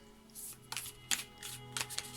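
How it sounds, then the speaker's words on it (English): Oracle cards are shuffled in several quick, crisp riffling bursts, spaced about half a second apart, over soft sustained background music. "Just give it a shuffle."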